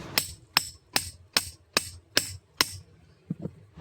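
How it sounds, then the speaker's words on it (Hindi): A hammer strikes a punch to drive the crankshaft out of a KP-310 demolition hammer during an overhaul, seven sharp evenly spaced metallic blows about half a second apart, close and loud, followed by two softer knocks. "अब हमें जो इसका क्रैंक शाफ्ट है इसे वापस नीचे की तरफ पंच करना होगा"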